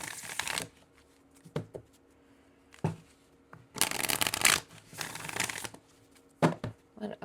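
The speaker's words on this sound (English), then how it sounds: "let's go ahead and grab some energy cards" Energy cards for a card reading are handled and shuffled close up: crisp riffling bursts, some long and some short, separated by pauses and soft taps, with no talking.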